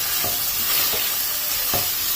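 Spiced chicken frying in oil is stirred with a steady sizzle, soft scraping stirs recurring about once a second over the continuous hiss of the pan, close and moderately loud.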